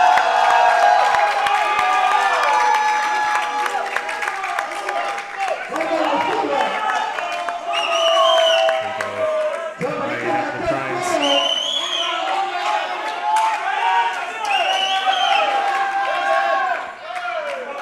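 At a powerlifting meet, Desert Barbell's Power Meet 12, a crowd cheers, shouts and claps loudly and continuously while an announcer's voice talks over the noise.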